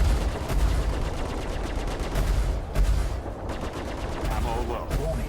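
Rapid weapon fire pounds a ship's rear shields during a Tarantula and Sabre squad dogfight in Star Citizen, a dense, continuous barrage of sharp impacts and bursts, loud and close throughout with sporadic heavier hits over a rumbling engine bed.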